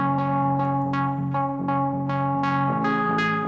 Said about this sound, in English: But I'm also going to pitch it up an octave so it sounds like this instead.